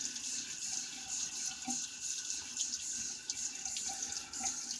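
Water runs from a tap to rinse a razor, a steady hiss of flow with small splashy changes as the blade passes under the stream, close and continuous.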